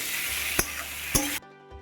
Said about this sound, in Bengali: এবার আমি চেরা টমেটোগুলো দিয়ে দিচ্ছি, দিয়ে একটু মশলার সঙ্গে কষিয়ে নেব, ভাজা ভাজা করে নেব একটু টমেটোটাকে